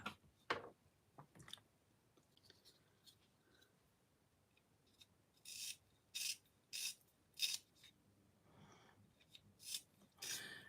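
Short, quiet scraping rasps of a makeup pencil turning in a small handheld sharpener, first scattered and then a run of five or six evenly spaced strokes, close and isolated with no talk.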